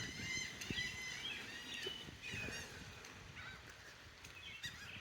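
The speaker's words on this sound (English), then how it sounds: "look at all these seagulls" Seagulls calling outdoors, a flock giving repeated harsh honking and squawking cries at moderate distance, overlapping irregularly over a steady background wash.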